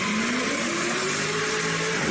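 A car drifting in a racing video: a steady, loud engine roar held at high revs, with the pitch climbing slowly and no break in the sound.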